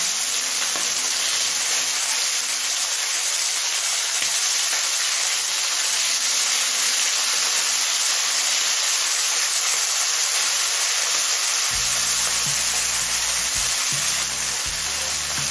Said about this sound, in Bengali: মিনিট 2 পর মাছের অপর সাইডটা উল্টে দিচ্ছি।